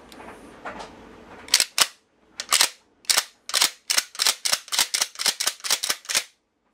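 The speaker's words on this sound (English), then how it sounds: "it unlocks the action and you can work the action freely" Shotgun action unlocked and racked repeatedly, a rapid series of about fifteen sharp mechanical clacks, close and loud, speeding into a steady rhythm after a few slower strokes, with no talking.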